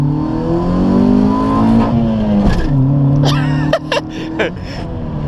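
A Honda Civic (EK) engine revs up hard through several rising pitches, close and loud, with a voice speaking over the start and a couple of sharp bursts near the end.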